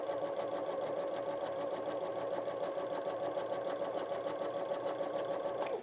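A sewing machine runs in one long steady burst while back stitching a notebook cover, its needle chattering fast and evenly, close and alone.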